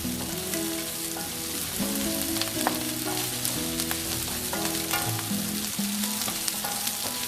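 Onions and broccoli frying in a hot pan, a steady dense sizzle with crackles and a few clinks of stirring, close and continuous, with no voices.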